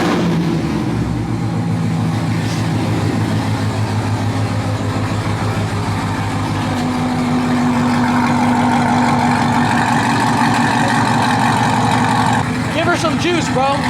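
C7 Corvette with new headers, X-pipe exhaust and tune running on its first start, a deep steady engine rumble with rising revs midway, close and loud, while people talk over it.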